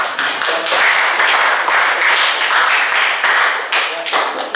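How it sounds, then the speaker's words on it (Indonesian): Listeners at a law presentation on legal protection and enforcement clap briefly, dense close clapping in short bursts that rises and falls over a few seconds. "kita beri tepuk tangan untuk ya"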